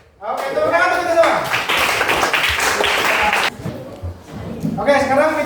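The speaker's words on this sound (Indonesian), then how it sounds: "Oke, tepuk tangan kita semua." A group of pupils in an Indonesian classroom claps together in a dense burst lasting a few seconds, with a voice speaking before and after it.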